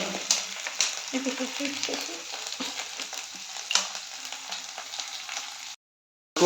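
Goat meat frying with cumin paste in a pan, a close crackling sizzle with stirring scrapes throughout, cutting to silence near the end.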